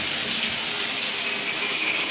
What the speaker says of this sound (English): Now this is set to shower, so we're going to get sprayed just using the hot water